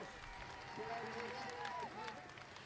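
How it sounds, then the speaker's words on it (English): Large roadside crowds along a Tour de France stage route in Belgium in 2006 cheer and clap as a steady broadband roar, with a few shouted voices rising above it. "Huge crowds as we race through Belgium here."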